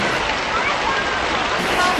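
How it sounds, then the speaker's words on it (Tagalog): Heavy rain pours in a steady, dense broadband hiss that stays loud and unbroken throughout. "Ang lakas na ng ulan."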